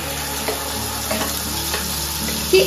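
Ground ginger paste frying in a pan gives a close, steady sizzle with soft stirring scrapes and a brief clink near the end.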